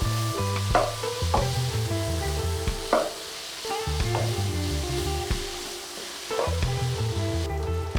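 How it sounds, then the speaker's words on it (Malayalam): Onion and tomato for chicken curry are sautéed in a pan, a close steady sizzle broken by repeated scraping stirs of a spoon against the pan every second or so, with no voices. "ഇതിനെ ഒന്ന് വഴറ്റിയെടുക്കണം"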